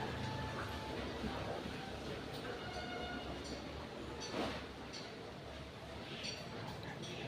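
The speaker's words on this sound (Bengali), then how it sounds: "ট্রেনটা আমাকে নিয়ে আমাকে আমার গন্তব্যস্থানে পৌঁছে দেওয়ার জন্য বেরিয়ে পড়লো নিজের প্ল্যাটফর্ম ছেড়ে।" Train pulling out of a station platform, a steady broad rumble and rattle of the carriages heard from on board at moderate distance, with faint voices and brief clanks mixed in.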